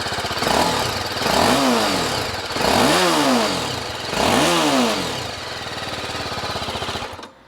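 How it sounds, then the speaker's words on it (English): BMW G 310 RR single-cylinder 300cc sport motorcycle engine revving three times in quick bursts from a rough idle, with an audible mechanical rattle, close and loud, then settling back before cutting off. "Let's hear the BMW for once."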